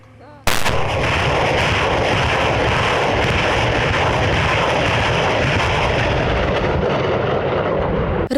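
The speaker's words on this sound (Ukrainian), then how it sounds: "Реактивна система залпового вогню град не тільки гучна, але й надзвичайно небезпечна зброя." A massive roaring barrage from a Grad multiple rocket launcher erupts after a brief quiet moment at a military training range, continuous and very loud, with rumbling blasts layered throughout.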